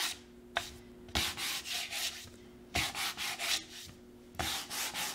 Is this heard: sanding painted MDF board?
yes